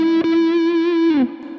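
An electric guitar with effects plays a blues rock lick in E. A single sustained, distorted note rings loud and clear, then slides down near the end and fades to a quiet tail.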